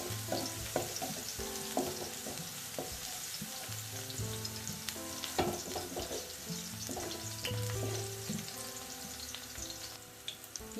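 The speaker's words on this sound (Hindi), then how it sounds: "तमाम वेजिटेबल्स को थोड़ा थोड़ा फ्राई करेंगे ऑयल के अंदर।" Mixed vegetables, carrots among them, stir-fried in oil in a pan with garlic for vegetable fried rice, giving a steady close sizzle and crackle with clinks and scrapes of stirring throughout, no talk.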